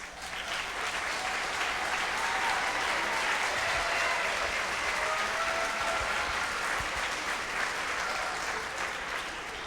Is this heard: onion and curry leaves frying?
no